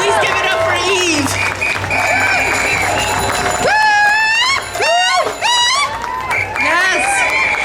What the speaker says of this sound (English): Please give it up for Eve.